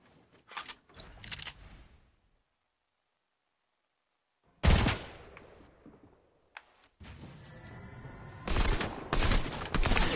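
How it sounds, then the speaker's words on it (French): Video game gunfire comes in sharp, loud bursts, then falls silent for a couple of seconds before heavier, sustained shooting resumes with scattered cracks. "Regarde, attends, je tire."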